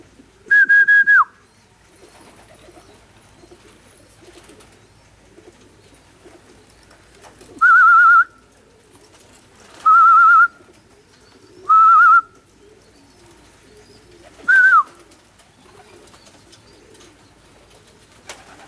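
Five short whistling pigeon calls spaced apart over quiet background, each a clear tonal note, fairly close and distinct.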